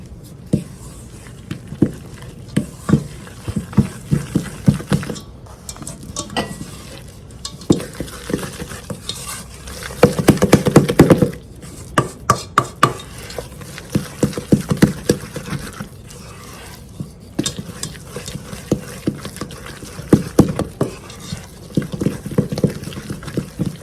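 Spoon stirring bread dough ingredients in a bowl, a steady series of scraping, knocking strokes with irregular rhythm, close and fairly loud, with a busier stretch of mixing midway.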